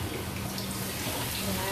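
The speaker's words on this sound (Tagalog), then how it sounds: "Lalagyan natin ang konting tubig." Water poured into a pot to steam lapu-lapu fish makes a steady splashing rush, close and continuous for a moment, with faint voice-like sound mixed in.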